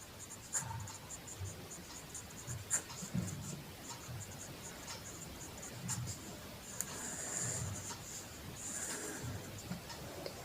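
Chalk or marker on a classroom board, faint scratchy strokes in short irregular bursts, with soft breathing-like noises and a quiet hiss throughout.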